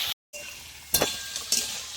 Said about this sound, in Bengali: সবজিগুলো একটু ভেজে নেব হালকা করে।